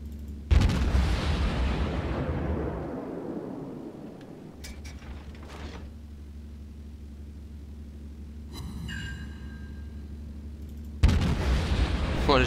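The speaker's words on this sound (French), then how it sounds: "là, j'ai tiré un peu n'importe comment" The Japanese tier 8 cruiser Atago fires its main guns in World of Warships, opening with a loud, deep boom that rumbles and fades over several seconds, followed by a second heavy blast near the end.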